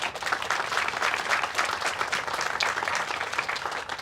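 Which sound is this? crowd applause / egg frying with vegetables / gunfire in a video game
crowd applause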